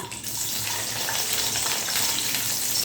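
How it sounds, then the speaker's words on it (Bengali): Cashews and raisins frying in hot ghee and oil over a low flame give a steady, close sizzling hiss with fine crackle throughout, without any talk. "এর মধ্যে ভেজে নিতে হবে কাজু আর কিশমিশ"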